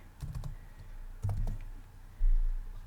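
Keys on a computer keyboard clatter in short, quiet bursts of clicks, close by, separated by brief pauses.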